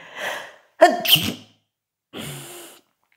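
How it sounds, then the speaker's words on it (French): A single loud sneeze preceded by a sharp inhaled breath, followed by a brief pause and then a softer exhale or sniff, close to the microphone. "Je vais éternuer."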